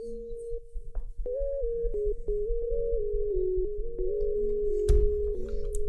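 A synth lead from the Purity plugin's simple sign preset plays a gliding, sustained melody over thumping low bass and drums in a trap-style beat. It is steady and fairly loud, with a brief heavy hit near the end and no voices.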